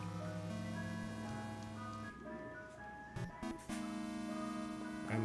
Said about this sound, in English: Oh, you might be hearing that ice cream truck in the background.